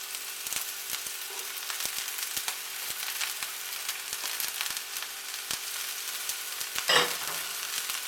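Onion and carrot fry in olive oil in a pan, a steady fine crackling sizzle with scattered pops, broken near the end by one brief louder scrape or stir.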